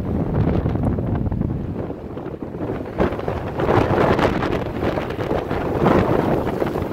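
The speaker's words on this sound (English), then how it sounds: "I thought the wind would calm down a bit in the evening. But it's only picked up." Strong wind at Lake Kleifarvatn buffets the microphone in a loud, continuous roar with gusty surges, no voices present.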